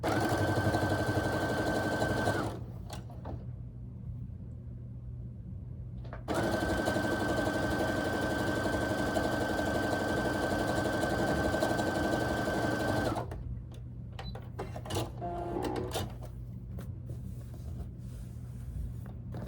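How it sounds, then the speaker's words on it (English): A sewing machine stitches a scrappy quilt block in two long steady runs, a close, continuous mechanical whir with a pause between them, then quieter handling noises. "I'm going to turn the block over so that I can get that nice and lined up and sew that down, or sew that together."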